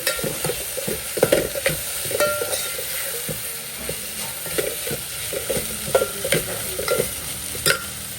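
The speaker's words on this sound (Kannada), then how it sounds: "ಇವಾಗ ಕಾಯಿ ಆ್ಯಡ್ ಮಾಡಿಕೊಂಡು ಎರಡು ನಿಮಿಷ ರೋಸ್ಟ್ ಮಾಡ್ಕೊಂಡಿದ್ದಲ್ಲ" Grated coconut roasting in a hot pan with a steady sizzle while a spoon scrapes and stirs it in repeated close, clattering strokes, with no voices.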